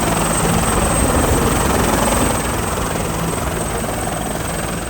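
A search helicopter flies overhead, its loud steady rotor roar and whine filling the air continuously and holding near and strong throughout.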